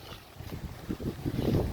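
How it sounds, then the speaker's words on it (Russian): Strong gusting wind buffets the microphone during rain on a Tashkent street, a rough, rumbling roar that swells and builds toward the end. "Так, ветер прям усиливается."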